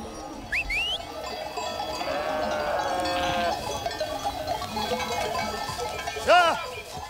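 A flock of sheep bleats in a Pyrenees mountain pasture in Béarn and Ariège, scattered calls near and far over a steady outdoor murmur, with a faint cowbell and some voices in the background.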